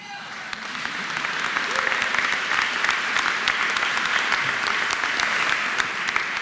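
Large audience at a mayor's State of the City address in Denver breaks into sustained applause with scattered cheers, a steady dense clapping that holds at full strength throughout with no speech over it.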